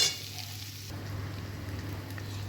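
Bitter gourd pieces sautéing in a wok, a quiet, steady sizzle with a low background hum and a brief stirring scrape at the start, no talking.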